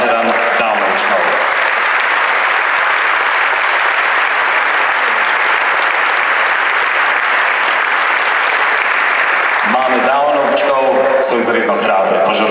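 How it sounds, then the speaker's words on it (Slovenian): Loud, dense applause from a charity concert audience for the mothers in attendance, sustained for most of the stretch before thinning out as a voice begins speaking near the end. "In velik aplavz vsem materam, ki ste danes tukaj, in materam Downovčkov."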